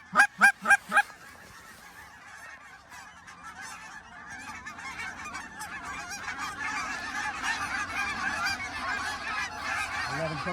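A flock of geese over an Oklahoma hunting field honks, starting with a few loud close honks, then a vast chorus of overlapping calls swelling steadily louder as thousands of birds approach.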